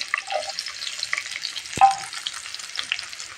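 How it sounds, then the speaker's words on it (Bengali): Chopped onion hits a hot wok and sizzles at once, a brief close hiss broken by a single sharp metallic clank of the utensil against the pan. "এখন আমি চুলায় কড়াই বসিয়ে দিয়েছি, পেঁয়াজ কুচি দিয়ে দিলাম।"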